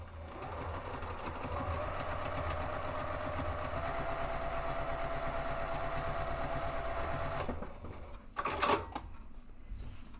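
A sewing machine running a 3.0 stitch length with a 90/14 needle hums in a loud, steady close-up run for several seconds, then stops with a few short back-stitch bursts and clicks.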